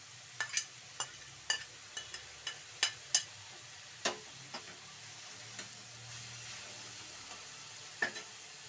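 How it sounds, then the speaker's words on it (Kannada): Cut drumstick pieces and coriander drop into a pan for a gojju, a quiet sizzle under a series of sharp clicks and taps from pieces landing and stirring, no voices. "ಕಟ್ ಮಾಡ್ಕೊಂಡಿರೋಂಥ ನುಗ್ಗೆಕಾಯಿನ ಹಾಕೊಳ್ಳಿ"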